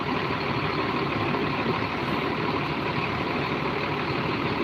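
A Metro bus engine idles with a smooth, steady low rumble and broad noise, close and continuous throughout, with no voices.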